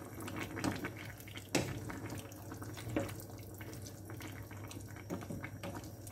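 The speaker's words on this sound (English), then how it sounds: "when you put the water into the tin, it's going to be hot" Boiled water poured into a tin in a home kitchen while making spaghetti bolognese, a steady splashing pour with a few louder knocks and clatters against the metal, close and fairly soft.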